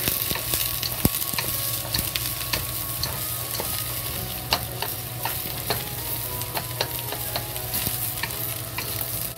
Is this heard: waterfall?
no